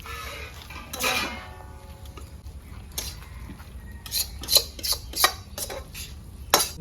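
A cooking pot being handled in a home kitchen while a spiced chicken stuffing for village-style stuffed pointed gourd dorma is finished, with a scrape early on and a run of sharp metallic clinks and knocks near the end, close and fairly loud.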